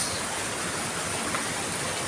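Strong waves and rushing water churning against rocks, a dense, steady, loud roar throughout.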